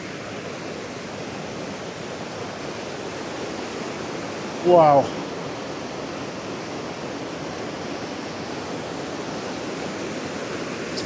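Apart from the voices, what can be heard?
waterfall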